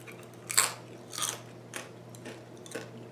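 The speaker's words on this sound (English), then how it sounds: "lot of crunchy sounds today, I think" Several close, crisp crunches come from bites into oven-toasted vegan crunchy tacos, spaced irregularly with quiet chewing between them.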